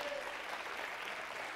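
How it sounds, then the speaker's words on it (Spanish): Church congregation applauding together, a dense, steady clatter of many hands with broadband texture, fairly loud and continuous for the short span, with a faint sustained tone near the start. "Dele palmas al Señor de la gloria."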